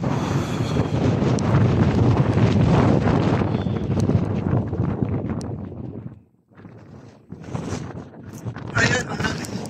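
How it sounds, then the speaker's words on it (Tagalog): Strong wind on the summit of Mount Alang Salacsac (Mount Kayapa) in Nueva Vizcaya buffets the microphone with a steady, loud roar that drops out briefly before gusting back. Voices can be heard faintly under it. "medyo humina na yung hangin"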